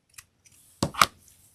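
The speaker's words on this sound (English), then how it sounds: "You could just do a straight cut with your scissors." Scissors snip through fabric for a Valentine's heart craft, with a faint early snip followed by two crisp, close cuts in quick succession in a quiet room.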